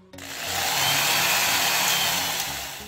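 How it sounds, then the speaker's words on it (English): Power drill boring through the bolt holes of a skateboard wheel pulley on a DIY electric skateboard, a loud steady whine that spins up quickly and holds for nearly three seconds, close by. "I want to go ahead and drill through these holes to make them bigger."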